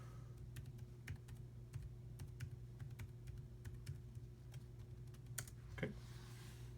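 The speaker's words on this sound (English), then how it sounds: "let me type in my password over here" Password typed on the keyboard of an Acer Cloudbook 11 laptop, a quick, close run of light plastic key clicks over a low steady hum, ending with a slightly firmer press.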